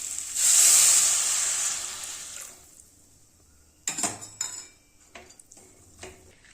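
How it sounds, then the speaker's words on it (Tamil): Water poured into a hot pan of bitter gourd kuzhambu with chilli powder gives a loud hissing sizzle that fades over about two seconds. A few sharp metal clinks of a spoon against the pan follow. "தண்ணி ஊற்றிக்கலாம்"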